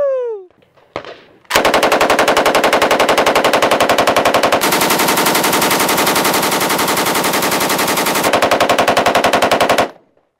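M249 machine gun firing a full belt in one long, loud, close burst of rapid, evenly spaced shots lasting several seconds, preceded by a brief click and ending abruptly.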